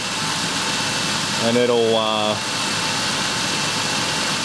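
A 2001 Ford Taurus with a P0340 camshaft position sensor fault idles during a key-on engine-running self-test. Its steady low hum sits in the background while someone talks briefly over it.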